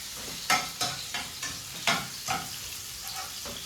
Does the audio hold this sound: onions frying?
yes